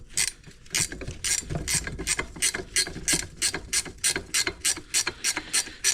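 A ratchet clicks in rapid, regular bursts while a nut comes off a Vespa Rally 200 spring retainer held in vice grips, about twenty sharp close clicks with brief pauses between strokes.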